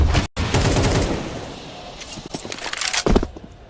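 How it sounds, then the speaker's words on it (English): Gunfire in a Counter-Strike 2 tournament match: dense, rapid bursts of game weapon fire that fill most of the moment, loud and close, with a brief cut and scattered sharper shots toward the end. "Zwei, headshot coming out of the Palace."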